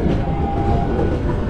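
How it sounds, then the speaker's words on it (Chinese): Loud, continuous low rumble of a train rolling past nearby, with a steady tone running through it. "火车慢驶进来了"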